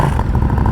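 A motorcycle engine sputters and revs up close, a loud rough rumble with rapid uneven pulses and clatter.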